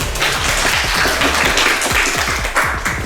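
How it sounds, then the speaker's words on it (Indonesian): An audience at a university course session applauds, dense close clapping from many hands that holds steady and loud throughout. "Kita beri aplaus untuk Pak Solihin."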